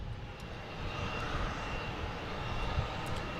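A JetBlue Airbus A321 at Boston Logan International Airport makes a steady, broad jet roar that holds at an even level for a few seconds, heard from some distance without voices.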